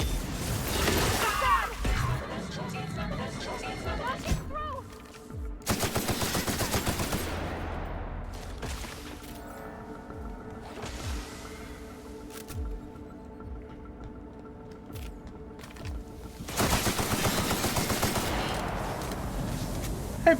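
Heavy automatic gunfire hammers a tough bot in Outer Worlds, loud rattling bursts that come and go in several long volleys with quieter mechanical game sounds between them.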